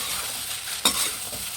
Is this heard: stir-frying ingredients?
yes